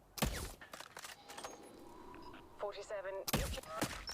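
Sharp sniper gunshots from the video game Hitman crack out, a couple early and a loud burst near the end, with game sounds and a voice in between.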